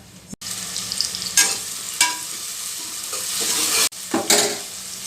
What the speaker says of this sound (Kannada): ಎಣ್ಣೆ ಕಾದಿದೆ ಇವಾಗ ಸಾಸಿವೆ ಸಾಸಿವೆ ಚೆನ್ನಾಗಿ ಚಟ್ಪಟ ಆದಮೇಲೆ